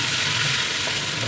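Onion hitting hot oil in a pan with garlic for adobong sitaw, a steady close hiss of frying that holds evenly throughout without any talking.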